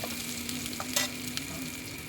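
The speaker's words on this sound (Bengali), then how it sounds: "তো পেঁয়াজের সঙ্গে বড়িটাও আমার ভাজা হয়ে যাচ্ছে" Onion and bori, small sun-dried lentil dumplings, fry together in a pan with a soft continuous sizzle, broken by a few light utensil clicks from stirring.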